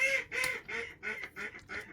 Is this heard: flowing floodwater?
no